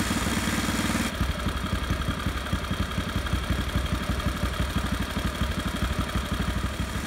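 A small 212cc engine running on 93 octane ethanol fuel idles at a fast, steady rhythm with a rapid chugging pulse and a mechanical clatter, loud and close, with no voices over it.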